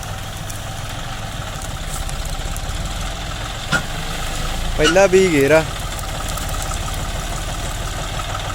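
A tractor idles steadily beneath a full trolley of wheat, its low engine rumble continuous throughout while someone talks over it nearby.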